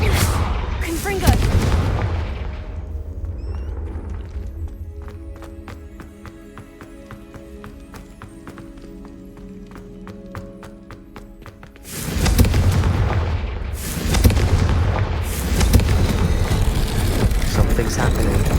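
Confringo blasting curses burst in Hogwarts Legacy, a loud pair of booming explosions up front, a quieter rumbling stretch, then another heavy run of blasts, close and forceful.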